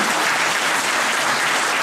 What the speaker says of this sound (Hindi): थोड़ी सी ताली तो बजा दें।